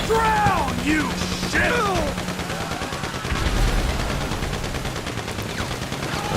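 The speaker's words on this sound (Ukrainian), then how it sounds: "а Тревор нехай постріляє" Gunfire in the video game GTA 5, fired by the character Trevor, crackles as scattered rapid bursts and shots, with whooshing game sound effects and rumbling engine noise mixed in throughout.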